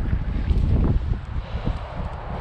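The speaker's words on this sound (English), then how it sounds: "which way is this wind blowing in correlation to your glider?" Wind gusting across an open paragliding launch site, a continuous low rumbling roar of buffeting on the microphone with no voices.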